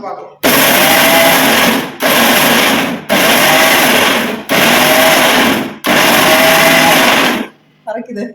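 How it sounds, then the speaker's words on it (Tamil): A kitchen mixie grinds dried chillies for a traditional spice powder, its motor roaring loud and close in five bursts separated by brief pauses, with a few soft sounds at the end. "இப்போ போட்டு மிக்சியில் அரைச்சி பார்க்கலாம்"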